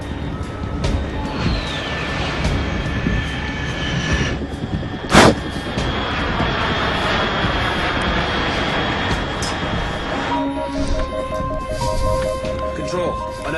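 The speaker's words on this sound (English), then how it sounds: "Unidentified aircraft detected." A roaring aircraft engine sweeps overhead in the Metal Gear Solid 3 video game, loud and sustained, with a sharp blast partway through and game voices talking over the noise.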